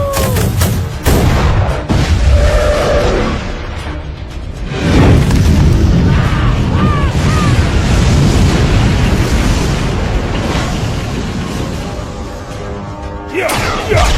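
Cartoon battle noise from the Paddle Pop Magilika animated series: heavy booms and blasts mixed with rapid gunfire, loud and dense throughout, with a brief lull early on before a second long surge of explosions.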